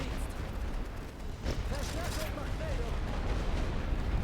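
Machine guns fire in The Great War: Western Front, a World War One trench strategy game, as troops push through the lines. The battle is a dense, unbroken roar of rattling fire and booms, with a voice talking over it.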